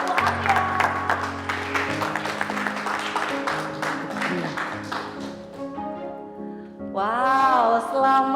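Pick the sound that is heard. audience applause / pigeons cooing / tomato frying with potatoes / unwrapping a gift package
audience applause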